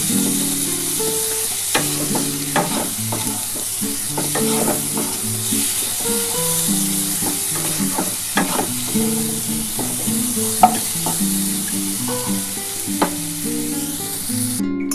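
Small kachki fish curry being sautéed in a pan, with steady sizzling and repeated scraping stir strokes throughout; the frying is close and fairly loud, with no voices.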